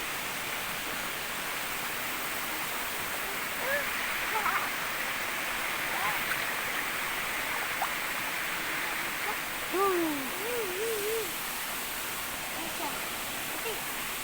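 A waterfall pours into the pool at Peukan Biluy in Aceh Besar, a steady broad rush of falling water with children's voices faintly above it.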